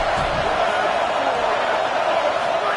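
Home crowd at a UCLA vs USC college football game, a dense, steady roar of many voices filling the stadium, continuous and loud without distinct peaks.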